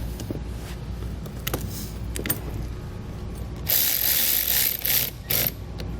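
A ratchet clicks in quick bursts while the battery is refitted in a 2018 Jeep Wrangler JK, with scattered mechanical taps early on and a louder, denser stretch of rapid ratcheting near the end, close and with no talk.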